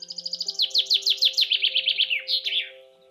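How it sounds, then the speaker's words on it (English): A European goldfinch sings close by: a rapid, bright run of twittering, tinkling notes lasting about three seconds over a faint steady background hum. "The goldfinch."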